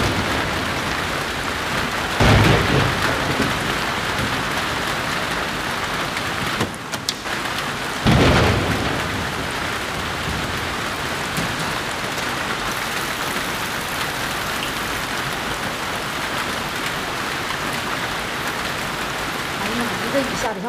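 Heavy torrential rain pours down steadily in a village, with loud thunder bursts cracking near the start and again midway, and voices faintly present beneath the downpour.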